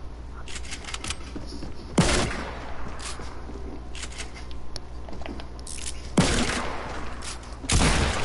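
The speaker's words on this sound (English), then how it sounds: "he's trying to shoot me from the wall" Video game gunfire, a few sharp loud shots and short bursts standing out over continuous background game noise, spaced irregularly across the clip.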